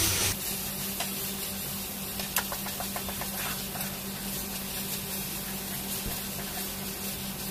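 Masala of turmeric and chole spice stirred and fried in oil in a pan for chole bhature, giving a steady, close sizzle with light scraping and stirring noises throughout.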